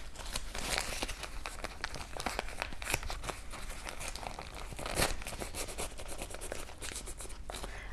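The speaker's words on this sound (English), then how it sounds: "I'm going to use the paper towel" Paper towel wiping patina off a handmade necklace piece, with close crinkling, rubbing and rustling strokes that continue steadily, and a few louder scrunches along the way.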